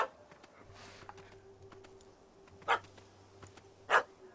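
Two short dog barks from The Witcher 3, spaced about a second apart over a low steady game ambience hum, fairly clear and close.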